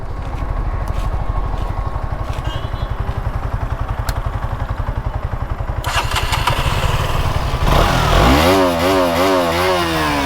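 A bare-piped motorcycle, an R15M or Duke 200 in neutral, chugs at a close, loud, steady idle. It then fires up harder and revs in several quick rising and falling bursts near the end.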